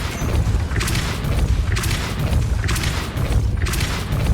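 Spell impacts in the Hogwarts Legacy video game, a Depulso force-push cast during combat in Salazar Slytherin's scriptorium: a few loud, heavy booming thuds with bright crackling bursts, repeating about once a second over a dense rumbling bed.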